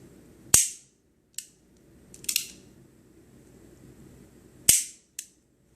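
Crisp metallic clicks from a 50-year-old Ruger single action revolver as its smooth trigger is pulled, with two sharp loud snaps and a few softer clicks spaced over a few seconds in a quiet room.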